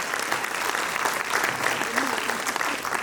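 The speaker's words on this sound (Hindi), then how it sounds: "तालियां कमजोर है आप लोगों की" Applause from a poetry-recital audience at a kavi sammelan, a dense steady patter of many hands filling the hall, with a voice speaking over the clapping.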